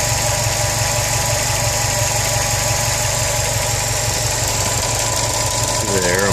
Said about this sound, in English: Some loud-ass injectors.